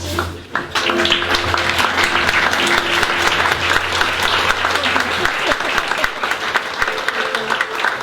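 Steady applause from a crowd at a benefit folk music gathering fills the whole stretch, dense and sustained clapping with a low hum underneath for the first few seconds.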